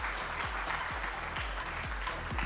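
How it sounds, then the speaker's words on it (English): An audience at a hotelier industry summit in India applauds the panelists after a session, giving sustained, even clapping from a full room over a low steady hum. "please give a big round of applause to our great panelists"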